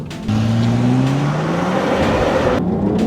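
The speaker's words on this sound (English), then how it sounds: "Oh, that engine sounds good, Nathan." A Volvo XC60 R-Design's turbocharged engine pulls hard from a standing start, its rising drone climbing steadily and loud throughout with a brief gear-change dip near the end, heard from inside the SUV.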